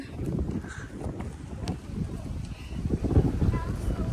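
Cold wind gusting over a hiking trail in Hong Kong, a steady rough rumble buffeting the microphone throughout, with voices talking underneath.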